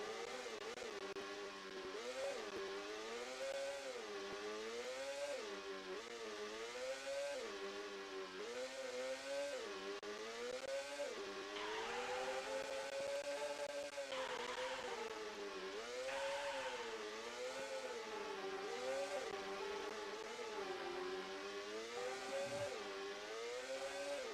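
Race car engines from the SNES racing game GP-1 whine in a continuous buzzing synthetic drone, pitch wobbling up and down as the cars accelerate and corner, faint and steady throughout with no talk.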